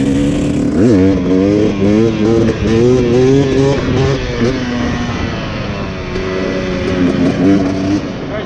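A dirt bike engine revs hard and close on open desert ground, its pitch climbing and dropping in repeated bursts before settling to a steady drone.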